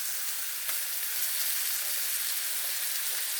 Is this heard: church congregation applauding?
no